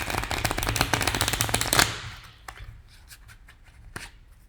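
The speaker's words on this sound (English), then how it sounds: "I will go ahead and start a shuffle and clear the energy of the deck." A Lenormand tarot card deck gets a quick, loud riffle shuffle lasting about two seconds, followed by a few softer isolated taps and snaps of the cards being squared.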